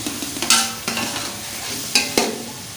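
Chicken and tomatoes fry in a pot for biryani, a soft sizzle under several sharp scraping stirs of a spoon against the pot, close and fairly loud.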